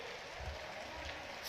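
A crowd claps at a statue unveiling ceremony for Samrat Prithviraj in Kulana, Jhajjar, a brief, faint, steady patter of applause heard from a distance.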